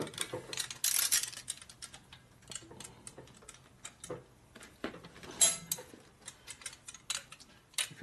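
Clicking and ratcheting of a torque wrench tightening bolts on a 1979 Harley-Davidson 80ci shovelhead motor being rebuilt. Sharp metallic ticks land in irregular bursts, close and moderately loud, with light shop clatter between them and no talk.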